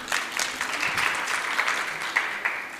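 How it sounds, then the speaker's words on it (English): An audience claps steadily, a dense patter of many hands applauding indoors for a few seconds. "Let's give Ben a round of applause"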